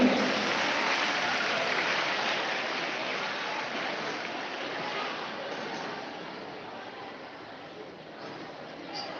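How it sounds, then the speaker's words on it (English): An audience at a school assembly gives a singer a sustained round of applause, a dense even wash of clapping that holds steady and fades slightly over several seconds. "Please give her a huge round of applause."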